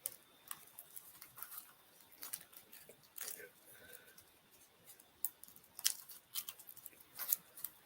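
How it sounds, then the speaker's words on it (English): Playing cards from an X-Files collectible card game are shuffled in short crisp riffling bursts and snaps, irregular and fairly close, during a quiet tabletop match. "I will continue to shuffle."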